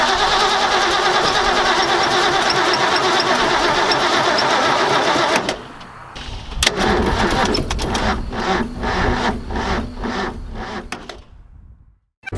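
A 1965 Ford Mustang with a battery that was dead the day before cranks steadily and loudly for about five seconds. After a short pause, a series of rough, uneven bursts follows as the engine struggles to catch, then fades out.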